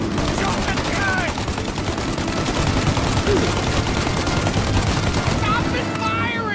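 Sustained gunfire in a Mafia Definitive Edition shootout, dense loud bursts running throughout with voices shouting over the shots.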